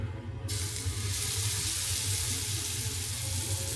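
Beef fillet searing in a hot pan, a sudden loud hiss of sizzling that jumps up about half a second in and holds steady and close with no talking.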